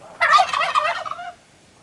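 A burst of turkey gobbling on a UK smallholding, a rapid warbling call lasting about a second, fairly loud and close, then quiet.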